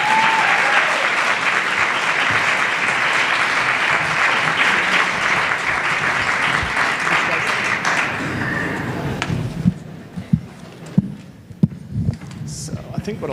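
An audience at a 2019 Spokane candidates' forum on climate change applauds steadily as mayoral and council candidates come onstage. The dense, loud clapping lasts about nine seconds, then thins to a few scattered claps and quiet room noise.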